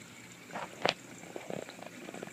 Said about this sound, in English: all of a sudden, bam, like this, the water starts going down again